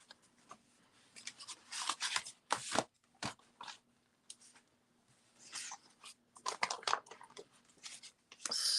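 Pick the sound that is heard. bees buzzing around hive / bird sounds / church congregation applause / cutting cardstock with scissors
cutting cardstock with scissors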